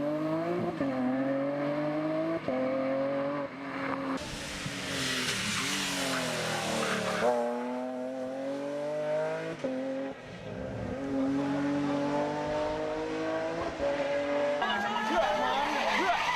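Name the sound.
Datsun rally car racing on countryside asphalt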